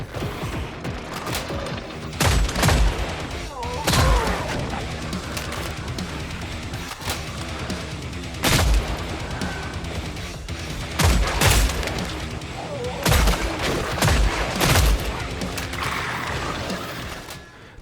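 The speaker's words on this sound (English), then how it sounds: "The audio from the guns, however, sound pretty weak" Gunfire from the video game Killing Floor 3: a busy stream of thin, rapid shots and sharper bursts over a steady mechanical background, with several louder volleys standing out through the passage.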